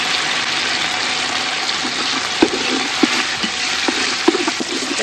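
Ginger garlic paste fries in a pan for a traditional village-fair mutton curry, giving a steady close sizzle with a few scattered clicks and stirring knocks throughout, with no talking.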